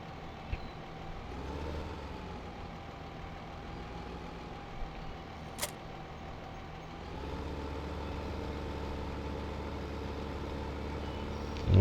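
A vehicle engine pulling a stock trailer in Farming Simulator 2015 hums at a steady low idle. A few faint clicks and knocks are heard, and the engine grows louder near the end.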